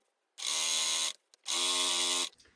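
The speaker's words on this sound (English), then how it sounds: "lining it up with the marking on the plate, you can start stitching" Sewing machine stitching a fabric seam in two steady buzzing runs, each under a second long, separated by a short pause with a faint click.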